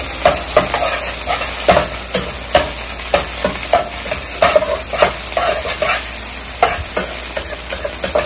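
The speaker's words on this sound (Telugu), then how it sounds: "ఎగ్ ని మరీ ఎక్కువగా ఫ్రై చేయొద్దు." Egg frying in a pan for egg fried rice, with a steady sizzle under repeated scraping and stirring strokes of a utensil, close and fairly loud, with no voices.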